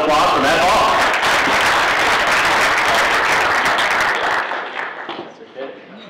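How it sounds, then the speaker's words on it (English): Audience applause at a West Los Angeles Chamber of Commerce breakfast for speaker Matt Ball, dense clapping from a roomful of people that holds for several seconds, with voices mixed in, then thins and fades toward the end. "Let's have a West LA round of applause for Matt Ball."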